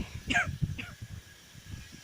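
A single short, throaty cough up close, followed by a faint second catch of the throat, then quiet low murmuring.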